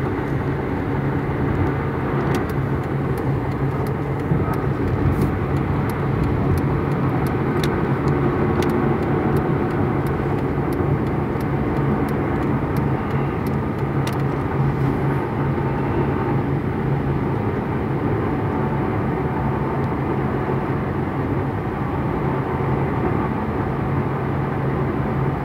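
A car cruising along a road gives a steady engine drone and tire rumble from inside the cabin, with faint ticking clicks scattered through and no talking.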